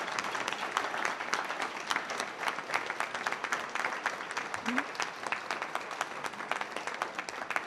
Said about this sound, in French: On va applaudir et dire merci.